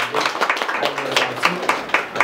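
A school gathering's audience claps, a brief burst of fairly loud, uneven hand claps from a group, close by with a voice faintly underneath.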